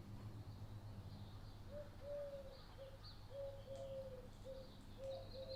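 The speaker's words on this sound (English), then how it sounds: "Got a little nice owl sound effect for you going." Soft, low hoots repeat in a steady series, faint and distant over a quiet background hum, with occasional faint chirps higher up.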